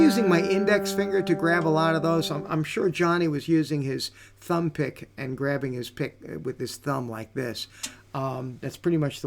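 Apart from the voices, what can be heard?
No distinct noise like a dog, phone or traffic.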